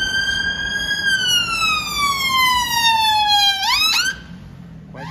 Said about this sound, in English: Quite a lot of ambulance today,